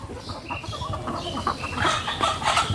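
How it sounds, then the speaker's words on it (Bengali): Chickens cluck softly and repeatedly as they walk about a farmyard, a scattered, steady murmur of short calls close by with no talking. "আমাদের মুরগিগুলো হাঁটতেছে"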